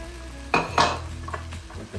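Chicken pieces dropped into a hot pan for Telugu-style chilli chicken, giving two sharp sizzling bursts with stirring and clattering of a utensil against the pan, close and fairly loud.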